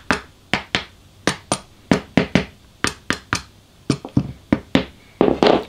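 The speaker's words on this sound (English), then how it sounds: "so then tapping it with a hammer" A hammer taps a freshly glued wooden joint to seat it, giving about eighteen sharp, close knocks in an uneven rhythm with no talking.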